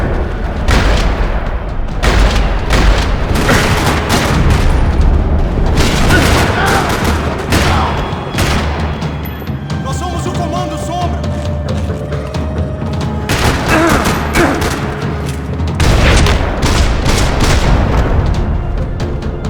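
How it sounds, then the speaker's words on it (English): Heavy gunfire fills a parking lot in Max Payne 3: rapid bursts and booming shots crowd the first half, ease into mechanical clatter and ringing tones midway, then surge back into dense firing near the end. "Another parking lot rattling with gunfire"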